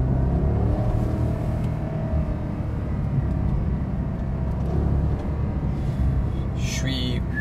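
Porsche Panamera Turbo with its 500 hp V8 accelerating hard, a loud, steady low engine roar filling the cabin without a break, with faint voices under it.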